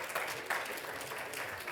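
Conference audience at the EISACH 2023 hospital expo panel applauds, a soft, fairly distant patter of clapping with a couple of brief swells, no talking over it.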